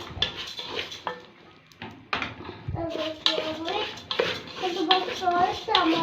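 Rice stirred in a pan alongside crispy fried fish, with repeated scraping and clattering of a utensil against cookware, irregular and close, under talk from an adult and a child.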